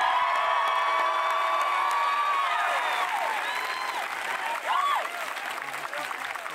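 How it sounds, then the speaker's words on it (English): Graduation crowd applauding steadily and loudly, with whoops and cheers rising over the clapping; a few shouts stand out near the end as the applause continues. "Please join in a large round of applause for your president."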